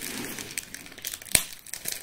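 Gift wrapping paper on a beauty swap package crinkles softly as it is unwrapped, with one sharp crackle partway through and no talking.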